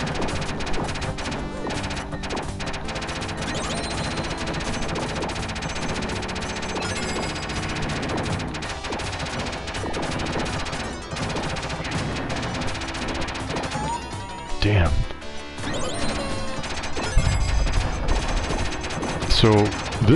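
Shooting and enemy explosions in the PS4 shooter Cotton Reboot, played in its classic X68000 mode: a dense, continuous stream of rapid gunfire pops and crashing blasts over game music, with heavier bursts near the end.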